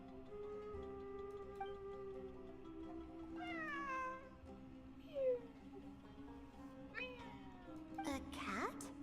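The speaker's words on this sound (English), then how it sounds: "It really is a cat." A cat in a video game meows several times, short harmonic cries spaced a few seconds apart over a steady humming drone, a ticking clock-like pulse, and faint voices.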